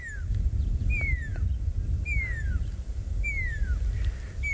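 An owl on a wildlife safari calls back in reply, four clear falling whistled notes at an even pace over a steady low rumble of engine or wind, with no voices.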